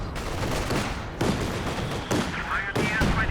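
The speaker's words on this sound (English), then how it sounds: "Oh, the rifle nade! And there goes the section." Company of Heroes 2 battle sounds from a 2v2 match: a rifle grenade blast and dense rifle and machine-gun fire crackle in repeated bursts, loud and close, with a commentator's voice running over them.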